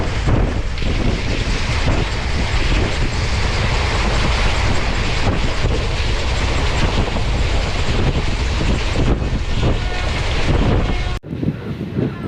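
An express train between Mannargudi and Mayiladuthurai roars along the rails at speed, a dense, loud continuous rumble mixed with heavy wind buffeting, with no distinct clickety-clack beats standing out.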